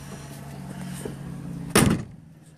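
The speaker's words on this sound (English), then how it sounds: "Both doors close real good." A 1968 Ford Mustang door shuts once with a single loud, solid thump near the end, against a low steady hum of background noise.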